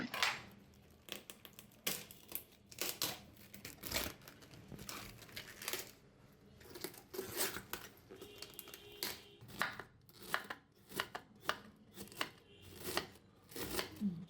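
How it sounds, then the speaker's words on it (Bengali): Fresh cabbage being finely shredded with a knife, a quick, fairly even run of crisp cutting strokes close by and at low volume, with brief pauses between bursts. "এবার কপি এভাবে মিহি করে কুচি করে নিচ্ছি"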